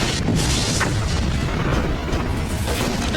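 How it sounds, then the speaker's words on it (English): A loud, close explosion of an SUV hit by an RPG roars and rumbles throughout, with dense low booming and crackling debris noise and no voices. "That was a nice explosion."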